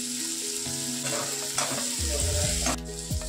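Potato and pea masala stir-fried in a pan with coriander-cumin powder and sugar, a soft steady sizzle under scraping and tapping of a spoon, close and fairly quiet, with no voices.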